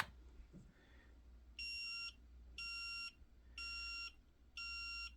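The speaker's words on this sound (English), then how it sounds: "Notice the blinking and the beeping. That is when we are out of range." Four evenly spaced electronic out-of-range warning beeps from a DOVOH laser level, each about half a second long, sound loud and close against a low steady hum.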